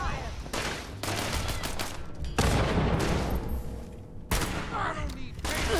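Sustained gunfire in the Fallout video game, dense overlapping bursts and booming shots filling the whole stretch, loud and close, with brief shifts in intensity and some game voices mixed in.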